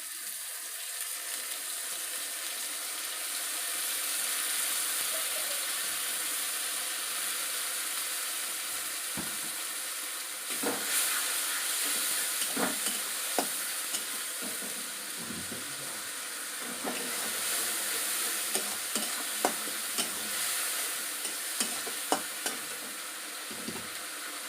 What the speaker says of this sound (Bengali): এখানে বাটা আছে পেঁয়াজ, রসুন আর লঙ্কা, এটা একটু দিয়ে দেব।